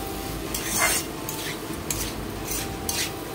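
Blanched boiled vegetables stirred in a pan, with a few scraping strokes of a spoon against the metal over a low sizzle, close and alone.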